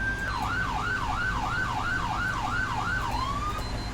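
A fire engine siren in a video game, LSRD mod, wailing in a fast repeating up-and-down cycle over a low steady engine rumble, loud and continuous, with no talk.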